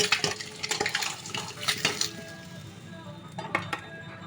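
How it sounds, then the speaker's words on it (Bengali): Fried eggs are lifted out of a wok with a metal utensil, making scattered clinks and scrapes against the pan over a faint background sizzle. "ভেজে নিয়েছি এবার তুলে নেব কড়াই থেকে"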